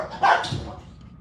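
Dogs that aren't getting along, confined in a small space, give one short sharp bark followed by a brief whimpering tail.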